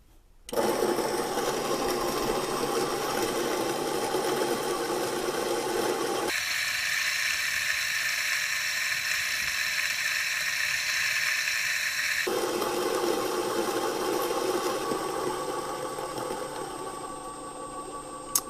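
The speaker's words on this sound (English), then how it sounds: "just gonna put the beans through in there, and then let's just grind in here" A Kafatek Monolith Flat or Niche Zero espresso grinder grinds coffee beans in a steady whirring drone that runs throughout with a brief shift in pitch mid-way, close and fairly loud.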